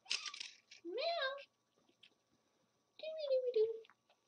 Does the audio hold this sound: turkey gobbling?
no